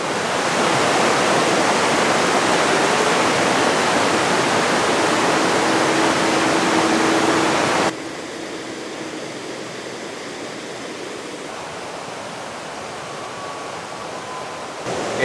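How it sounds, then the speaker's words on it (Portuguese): Water drips and trickles at a spring in Cocora Valley, Colombia, heard as a loud, steady rushing hiss that suddenly drops to a softer, quieter flow about halfway through, with no talking. "Olha os pingos aí caindo."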